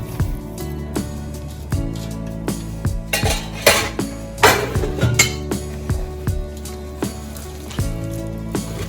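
Amla pachadi is mixed in a bowl with a spoon, giving close, steady clinks and scrapes of metal on the dish in an uneven rhythm, with a denser cluster of knocks in the middle.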